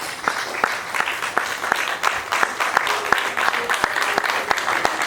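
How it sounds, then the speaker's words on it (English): A conference audience applauds a presenter steadily, a dense patter of many hands clapping with some sharper individual claps standing out throughout. "let's give him a round of applause"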